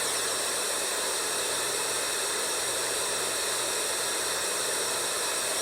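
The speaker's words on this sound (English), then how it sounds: "White noise." White noise setting on a Big Red Rooster 8-sound sleep machine, a steady, even broadband hiss at moderate level, unchanging throughout with no talking.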